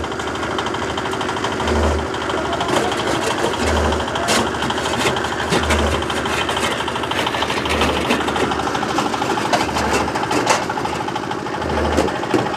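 A small engine-driven machine runs steadily in a workshop where concrete and water are mixed, close and constant, with a rhythmic mechanical chatter and regular low thumps about every two seconds throughout.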